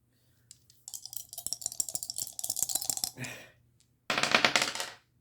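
Dice shaken and rolled for a Legend of Zelda themed board game, a long run of rapid close rattles, a short pause, then a bright clattering burst as they tumble out, with no talk.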